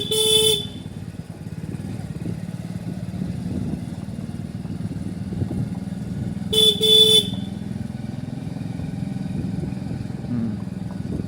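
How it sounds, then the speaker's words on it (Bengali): A motorcycle horn sounds twice during a bike training ride, each a short loud beep, at the start and again about six seconds later, over a steady low engine hum. "আবার হর্ন দাও।"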